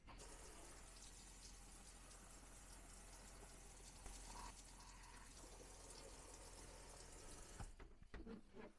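Water runs steadily from the shower faucet of a Jayco Jay Flight 197MBW travel trailer during dewinterizing, a constant quiet hiss that cuts off near the end with a few clunks.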